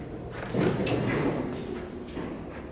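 Elevator doors at Wilderness Lodge in Lake Buena Vista, Florida, slide along their track with a smooth rumbling swish, nearby and moderately loud, with a brief faint tone ringing partway through.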